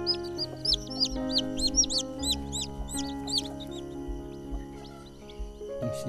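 Hens and chicks cluck and peep up close in a nursery coop, with repeated high chick cheeps over lower steady hen clucking throughout.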